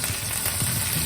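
Steak sizzles loudly in a pan of butter with rosemary, thyme, parsley and whole garlic cloves, a dense, steady crackling hiss filling the whole moment with no voices.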